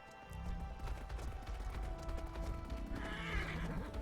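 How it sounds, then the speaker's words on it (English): Horses neigh and whinny in the Atlas video game, with clip-clopping hooves and ambient game sounds running steadily throughout; a brighter whinny rises near the end. "Oh, the horses are so great."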